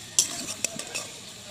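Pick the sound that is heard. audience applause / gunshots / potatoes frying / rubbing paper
potatoes frying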